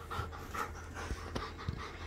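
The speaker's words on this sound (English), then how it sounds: "Just a giant puppy." A giant puppy pants close by in quick, rhythmic breaths that continue steadily for a couple of seconds.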